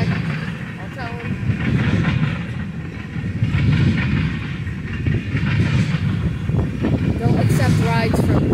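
Freight train rumbling past at Deshler, Ohio, a steady loud roll with rail clatter throughout, voices talking at times over it.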